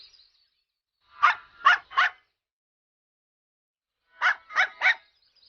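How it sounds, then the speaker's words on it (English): A dog barks sharply three times in quick succession, pauses, then barks three more times, close and clear against silence. "Why are you barking so much?"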